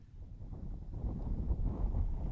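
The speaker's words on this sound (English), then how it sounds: "wind appears to be largely gusting away from us, the press site." Wind gusting across an open rocket launch press site ahead of a SpaceX Falcon 9 Starlink launch, a steady low rumbling buffet on the microphone that swells and eases without any talk.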